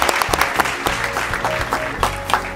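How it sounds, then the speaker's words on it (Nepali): Clapping from an audience at a donation program in Nepal, steady and moderately close, with a few sharper individual claps standing out and no one talking. "बजाइदिनु ताली"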